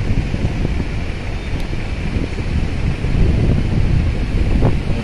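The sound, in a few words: strong wind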